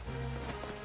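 Rain falls steadily in Pokemon Legends Z-A, a dense, even hiss of drops on surfaces at moderate level, with no talk over it.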